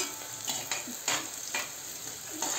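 Onion frying in oil in a pan for Kashmiri pulao, a continuous close sizzle with a string of soft spatula scrapes and stirring strokes at an uneven rhythm, no voices.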